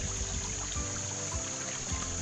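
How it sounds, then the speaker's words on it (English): Creek water trickles and babbles steadily on rural property, a continuous close flow with small splashes and no talking. "I love me a good creek."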